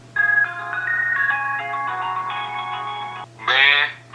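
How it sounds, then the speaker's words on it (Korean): An outgoing telephone call plays a melodic ringback tune through the handset: a bright electronic melody lasting about three seconds, then a short burst of tone, over a faint steady hum. "한번 전화 통화해가지고 의견을 한번 물어보도록 하겠습니다"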